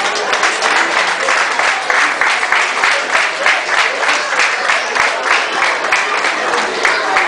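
Crowd at a boxing event applauding as a professor climbs into the ring, loud, close clapping with a slightly rhythmic pulse, sustained and unbroken across the whole stretch.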